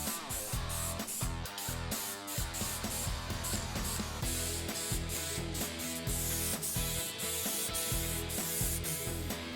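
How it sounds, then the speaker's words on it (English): An aerosol can of clear lacquer sprays in repeated short and long bursts over walnut workpieces, close and steady, with faint rattles between passes and no talk. "I shot all the pieces with clear spray lacquer."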